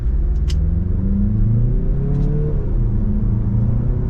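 An all-wheel-drive 2023 Mazda CX-50 2.5T Premium Plus pulls away from a standstill, its engine note rising steadily in a loud, continuous close-up hum from inside the cabin with rising whine and no talking.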